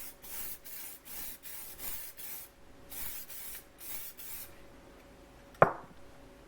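Spray adhesive is sprayed onto pre-printed paper for a custom license plate in a series of short, hissing bursts, close and rhythmic, followed by a single sharp click or tap.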